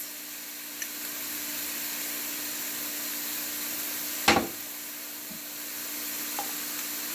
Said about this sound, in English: So my mushrooms are being sweat in here for a little bit.